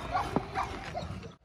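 A dog gives a few short, sharp barks and yips close by, in a sheep pen setting with scattered background noise.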